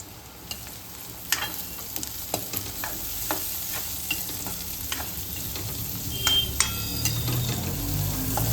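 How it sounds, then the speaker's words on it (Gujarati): Carrots and onions frying for Hakka noodles, stirred in a pan: a continuous sizzle broken by repeated scraping and clacking strokes of the spoon, growing busier toward the end. "હવે આપણે એમાં ગાજર ઉમેરી દઈશું."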